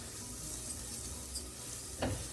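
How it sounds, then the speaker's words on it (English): Arborio rice frying in oil in a pan for risotto gives a steady, even sizzle at close range, with a brief scrape of stirring near the end and no talk. "And then you wanna fry up your rice"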